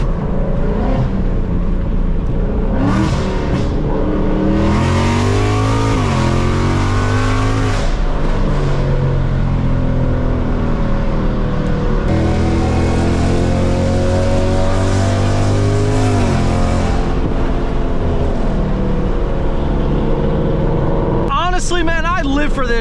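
A 2024 Ford Mustang GT with a full exhaust revs hard and loud nearby, the engine roaring up and falling back in repeated surges with crackling pops at the end, while voices talk over it.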